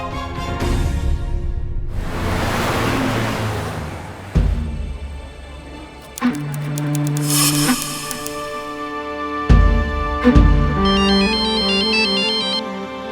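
A phone ringtone plays in a repeating pattern of bright tones over a busy music background, with several sharp hits breaking in.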